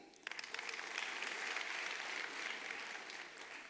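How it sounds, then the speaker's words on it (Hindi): Loud, sustained applause from an audience at a business seminar, dense clapping rising quickly and holding steady for a few seconds with no voices over it. "जोरदार ताली।"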